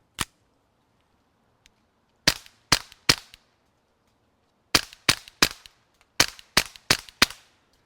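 Rimfire rounds fired through a Rugged Obsidian 9 modular 9mm suppressor, sharp muffled cracks in quick groups of three to five, separated by pauses, clear and alone.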